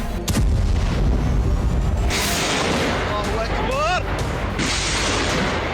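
Bombing in Syria rings out as loud booms and blasts, one sharp hit up front and heavy rumbling bursts after it, all under a news narrator's voice.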